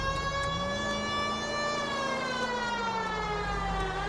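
Continuous loud siren wail, its pitch gliding slowly up and then gently down, steady and close throughout, for a police unit running code 3 to a shots-fired call.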